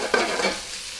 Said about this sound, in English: Now I put my oil baby hot pepper.